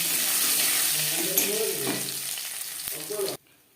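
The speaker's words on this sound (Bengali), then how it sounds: "কড়াইতে আবারও তেল দিয়েছি ফোড়নে দিয়ে দিলাম" Panch phoron spices dropped into hot oil in a wok for a vegetarian potato, cauliflower and paneer dish, giving a loud, close, steady sizzle with a few faint tones and clicks before it stops suddenly.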